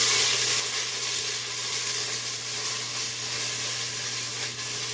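Onion and garlic sizzle steadily in a skillet, a constant close hiss with a faint low hum underneath and no talking, while black-eyed peas and cornbread are being made.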